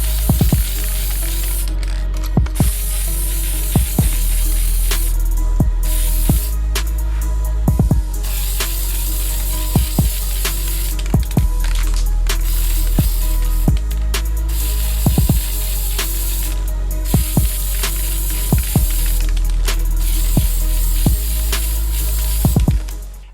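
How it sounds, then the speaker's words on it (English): A steady, loud hiss of aerosol spray paint being sprayed onto a football boot runs almost continuously, broken by brief pauses and small clicks, close by. "the actual type of spray paint we used had more of a dusty effect than previous ones"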